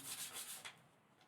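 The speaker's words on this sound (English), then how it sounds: "I'm gonna see if sanding it really does something" Fine sandpaper rubs back and forth across a homemade toner-transfer circuit board in several quick, close strokes, soft and scratchy, then stops.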